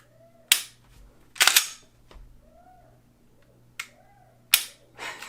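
Dry-firing an S&W M&P M2.0 pistol fitted with an Apex trigger, several sharp metallic clicks and slide racks spaced unevenly, close and crisp against quiet.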